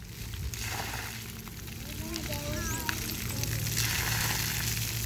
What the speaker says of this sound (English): It'll pour water on you.